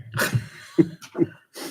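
A single sharp sneeze bursts out close by during a staff meeting, followed by a few short breathy snorts and sniffs.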